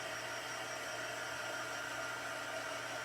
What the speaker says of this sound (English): and then I'm going to bring out my heat gun.